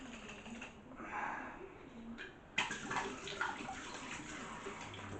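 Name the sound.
rinsing out a bottle with water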